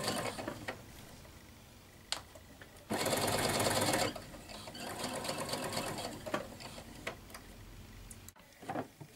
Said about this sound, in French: Donc je couds bien à 1 cm tout autour. Je vais doucement parce que nous sommes sur des courbes.